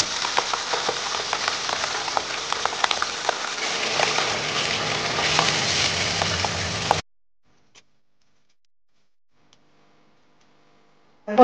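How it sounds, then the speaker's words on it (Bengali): Pabda fish frying in hot mustard oil in a kadai, a crackling sizzle with sharp spits and pops for about seven seconds before cutting to silence. "পাবদা মাছ ভাজার জন্য কড়ায় অল্প নুন দিতে হবে"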